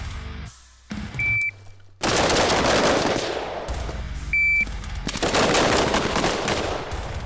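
Pistol or carbine gunfire on an outdoor training range, loud sharp shots in quick strings with short pauses between bursts, a brief electronic beep from a shot timer sounding before each string, no talk.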